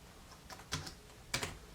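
Keys tapped on the detachable keyboard of a Chuwi Hi12 tablet, two quick clusters of close, crisp clicks separated by a short pause.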